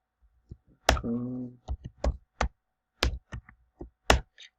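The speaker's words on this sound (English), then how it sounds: "Type in my username and password." Username and password are typed on a computer keyboard: sparse, irregular key clicks and taps, close and crisp, with a short humming tone near the start.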